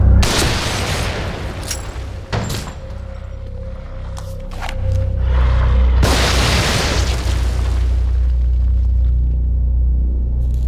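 A deep explosion booms in the video game The Evil Within, with sharp bursts and pops early on, then a loud sustained rumble rolling on heavily to the end.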